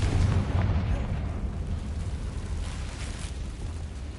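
A Confringo blasting spell going off in a video game, a loud booming explosion with a rumbling burst up front that tails off into a sustained low roar.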